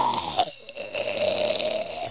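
A person's voice imitates snoring with rough, throaty grunting snorts, one sustained rasping breath carrying on for about two seconds, close and fairly loud.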